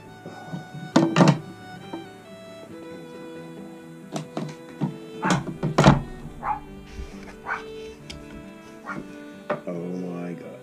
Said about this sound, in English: there's nothing quite like opening a new box